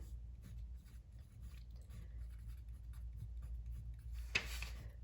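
Pen scratching out a math problem on paper, quiet intermittent strokes over a low background rumble, ending with one brief sharper scrape.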